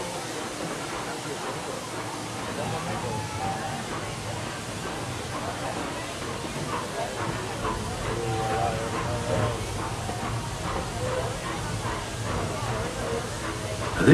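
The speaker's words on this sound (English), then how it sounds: "this steam train is a little old-fashioned" An old-fashioned steam train on the Magic Kingdom railroad at Walt Disney World rolls along with a steady rumble, hiss and rhythmic rail clatter, heard from aboard at moderate volume with people talking throughout.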